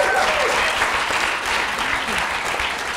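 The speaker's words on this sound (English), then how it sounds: "So maybe we should have a round of applause for that." Dense applause from a large audience at a student presidential debate, steady and loud throughout with a faint murmur of voices mixed in.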